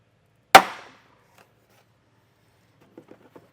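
A single sharp plastic pop as a trim panel clip snaps loose on a 2025 Subaru, loud and close with a short rattling tail, followed after a pause by a few faint, quiet clicks of handling.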